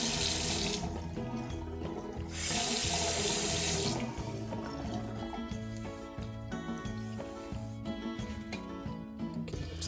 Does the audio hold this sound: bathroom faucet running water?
yes